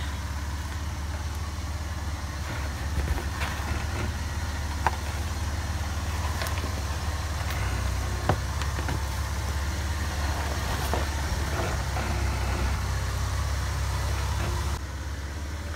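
An off-road truck engine on the trail at Prentice Cooper idles steadily, a continuous low rumble lasting the whole stretch with a few faint clicks and knocks and no talk.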